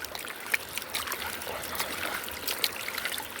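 A turbo gold pan swirled counterclockwise with water makes a soft, steady trickling and sloshing, faint and close, with small splashes and no voices.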